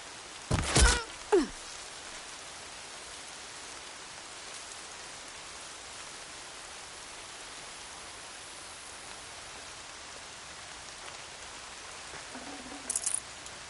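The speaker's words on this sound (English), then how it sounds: "More rain." Steady rain falling in the video game Horizon Zero Dawn Remastered, a soft continuous hiss of drops broken by a couple of sharp thuds near the start and a short burst toward the end.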